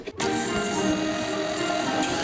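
A KitchenAid stand mixer creams butter and sugar together, a steady loud motor whir that starts abruptly and holds through to the end.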